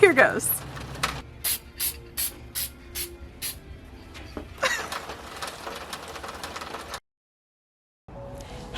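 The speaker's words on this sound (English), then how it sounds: "going to show you how to paint a cylinder head" Spray paint hisses in a series of short, evenly spaced bursts onto an engine cylinder head, about seven quick blasts, followed by rattling and handling noise. A few words are spoken near the start.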